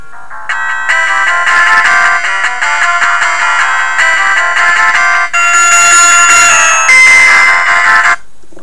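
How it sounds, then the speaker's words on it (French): A Mobiho Essentiel senior slider mobile phone plays its ringtone loudly and alone, a bright electronic bell-like melody of repeating chiming notes that runs steadily for about eight seconds before cutting off. "je vais vous faire voir directement la sonnerie"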